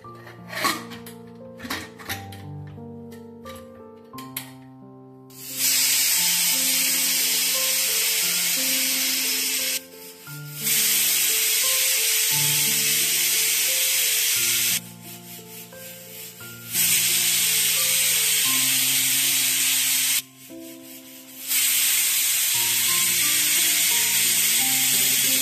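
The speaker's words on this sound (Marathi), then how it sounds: "जसं की तुम्ही बघितलं 4 शिट्या झालेले आहे माझ्या कुकरचे" A home pressure cooker cooking dal with water lets out loud sustained steam whistles, four long hissing blasts separated by short pauses, over quieter clatter and rubbing at the start.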